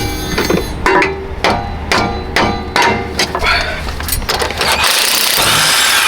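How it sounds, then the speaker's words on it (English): Impact wrench loosening a bolt on the rear shock of a 1995-1996 Jaguar XJ6, a series of sharp rattling bursts in close succession, loud and near, giving way to a steady broadband whir at the end. "Pull it out with the impact wrench."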